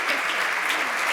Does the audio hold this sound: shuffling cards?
no